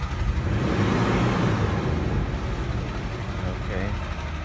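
The engine of a 2015 Toyota Prado revs during a diagnostic check, giving a steady, full rumble that eases slightly toward the end.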